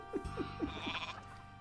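Several quick goat bleats from the video game Age of Mythology sound in a rapid series over a humming background, followed by a fainter sustained tonal drone.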